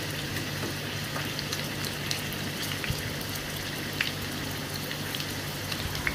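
Okra pakoda, ladies finger coated in masala, frying in hot oil with a dense, steady crackling sizzle, with faint clicks as the pieces are turned over; no voices.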